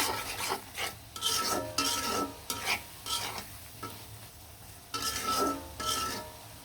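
Prawns and onions stir-fried with spices in a pan, loud repeated scraping strokes of the spatula over a sizzling base, coming in quick bursts with short pauses between them.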